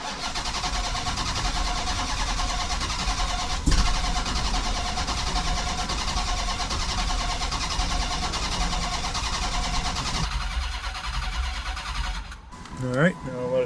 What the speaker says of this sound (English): we'll just crank her, and hopefully by the time the fuel pressure builds, it'll actually have a little bit of oil running through it